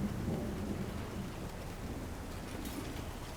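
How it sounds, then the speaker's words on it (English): A thunderstorm in the video game Syberia: The World Before, with steady rain and low rumbling thunder filling the background, moderately loud and continuous with no speech. "There's a storm, though."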